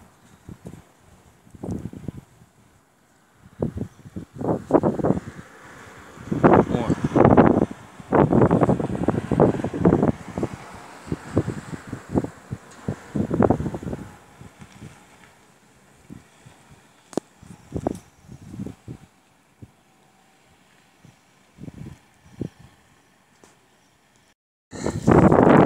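Gusts of wind blow hard against the microphone in irregular bursts, loud rumbling buffets separated by quieter lulls, with faint rustling in between.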